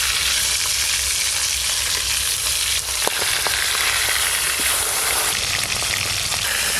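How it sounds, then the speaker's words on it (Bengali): Pangas fish pieces fry in hot oil in a pan, giving a loud, steady, close sizzle throughout with a few faint knocks as they are stirred. "এই মাছগুলো একবারেই ভেজে নেব।"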